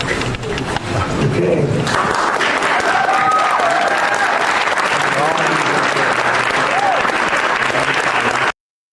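A large live audience bursts into loud, sustained applause mixed with cheering and shouts, a dense roar of clapping that swells after a brief start and carries on until it cuts off abruptly.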